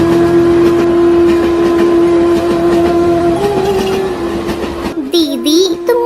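A cartoon train rolls along a railway track, a loud steady rumble with a sustained tonal hum and rhythmic rattling, before a sudden shift to a wavering whistle-like tone at the end, with no speech.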